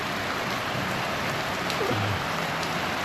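Heavy rain falling during a low-pressure downpour at a flood-relief bridge construction site, a loud, dense, continuous hiss of drops on surfaces, close and steady throughout with no voices.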